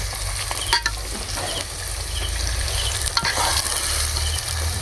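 Chopped onions sizzling in a hot pan for baingan oro, a loud, continuous close-up frying hiss with a few brief stirring scrapes.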